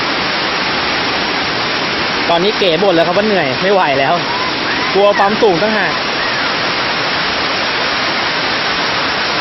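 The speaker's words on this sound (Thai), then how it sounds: "นี่คือชั้นล่างของน้ำตกนะครับ" The lower tier of a waterfall in lush forest roars steadily and loudly throughout, with someone talking over the constant rush of water for a few seconds in the middle.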